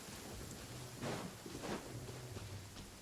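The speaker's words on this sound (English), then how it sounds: "It's raining again." Rain falls in the video game Genshin Impact as a soft, even patter with faint hissing and a few louder swells, quiet and continuous, with no talking.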